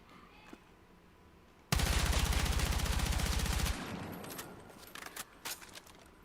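Automatic rifle fire in the shooter game Battlefield 6 during the Nightfall event: one loud, rapid sustained burst of about two seconds, followed by a lingering echo and a few scattered clicks.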